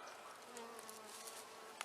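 Honeybees buzzing close around a camera beside a hive outdoors, a steady dense drone of many wings with one brief sharper pass near the end.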